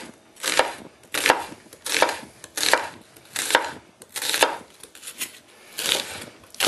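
A knife slices onions on a cutting board in about nine steady, evenly spaced strokes, each a crisp close chop, with nothing else heard.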